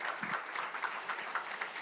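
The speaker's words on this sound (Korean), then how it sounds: "우리 인사할 때 큰 격려의 박수 드리도록 하겠습니다" At a church ordination ceremony for new deacons in Auckland, the congregation breaks into warm, continuous applause, a dense patter of many hands at moderate volume, uninterrupted by speech.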